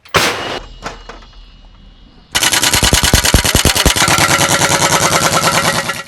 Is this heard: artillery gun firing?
yes